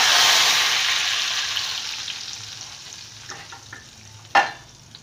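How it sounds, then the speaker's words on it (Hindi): Hot oil tempering of garlic, red chillies and cumin for masoor dal, a loud hiss that fades gradually, then a sharp burst of sizzling near the end as the tempering meets the lentils. "देखिए मैं अब बघार कर रही हूँ।"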